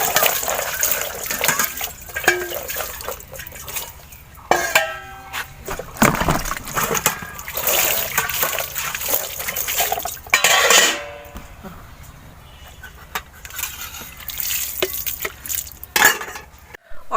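Dishes, pots and pans clatter and clink as they are washed with water at a village home, with splashes, scraping and cutlery knocks close by in an irregular, continuous stream.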